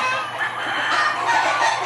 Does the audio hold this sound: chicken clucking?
yes